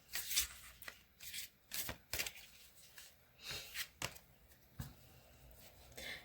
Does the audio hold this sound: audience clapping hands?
no